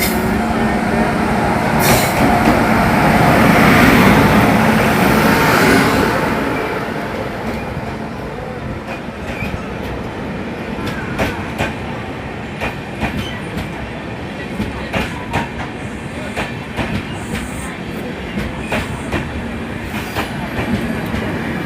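A train pulls into a station on the Anand Vihar route. It opens with loud rumbling and horn-like noise, then settles into steady wheel clatter and rhythmic clicks as the carriages roll past up close.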